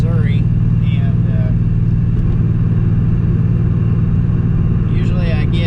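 Deep, steady engine drone of an LS-swapped Nissan 240sx cruising on the road, a loud continuous low rumble filling the cabin while a person talks over it.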